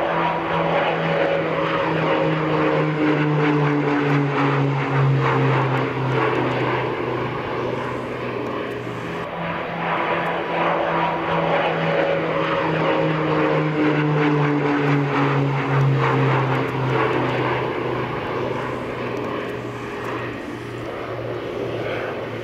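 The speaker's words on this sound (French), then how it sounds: "les Canadair, donc les avions jaunes et rouges que vous voyez évoluer" A Canadair CL415 water bomber flies overhead with a loud, steady propeller-engine drone, its pitch sliding down as it passes, then a second similar sweep follows; no talking.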